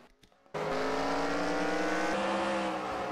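Race cars in a custom Cup series event at COTA (Circuit of the Americas) climb the hill out of turn one, engines roaring loud and close after a brief quiet start, steady high-revving drone throughout.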